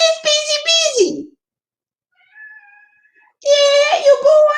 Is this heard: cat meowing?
yes